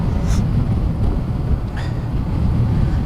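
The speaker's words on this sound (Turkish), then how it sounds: "yine an itibariyle çok rüzgar var, inanılmaz bir rüzgar var" Strong wind buffeting the microphone with a steady low roar and rumble, no voices present.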